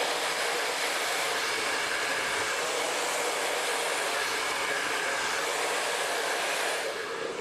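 A hair blow dryer works over the roots and sides while styling hair for in-curls, a loud steady rushing roar of air that holds close and unbroken throughout, with no voices.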